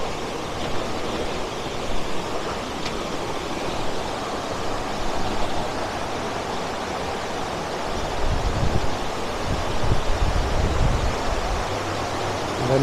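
Waterfall and river water roaring as a steady, broadband rush of falling and flowing water, constant and fairly loud throughout with no voices.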